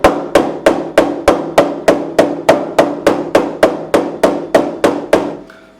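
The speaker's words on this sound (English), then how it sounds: "That's a lot more hammering than I need to do." A hammer tapping a fret into the neck of a 1980s Antoria EG1935 Rock Star guitar, a Samick-made 335-style model: about fifteen sharp, evenly spaced strikes, close and loud, each with a short ringing tail.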